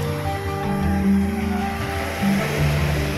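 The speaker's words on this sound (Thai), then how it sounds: "หาดจอมเทียนพัทยา วันนี้ท้องฟ้าเปิดนะคะแล้วก็ชายหาดสะอาดมากน้ำใสนะคะ" Surf rolls steadily onto Jomtien Beach in Pattaya, Thailand, as a continuous close wash of breaking water with a low, droning hum underneath and no talk.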